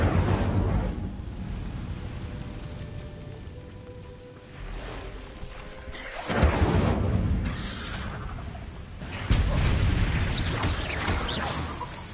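An Incendio fire spell is cast in Hogwarts Legacy: a rushing, crackling roar with heavy rumbling bursts that surge and fade, the strongest flaring about halfway through and again near the end.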